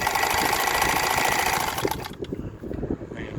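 Janome zigzag sewing machine stitching a straight seam after repair, a fast steady mechanical whirring and rattling that runs loud for about two seconds, then stops, leaving faint handling noises.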